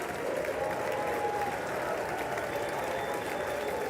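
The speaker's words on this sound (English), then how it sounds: "You got to keep clapping." Sustained applause fills a large chamber at a State of the Union address, a steady dense wash of clapping with faint crowd murmur running unbroken throughout.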